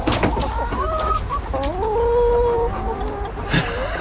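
Chickens in a flock of hens cluck and squawk repeatedly as they leave their opened coop in the morning, close and fairly loud, a busy overlapping run of calls with no talk.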